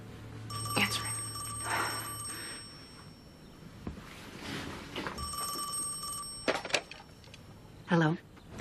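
A telephone bell rings in repeated bursts, fairly close, while people talk between and over the rings.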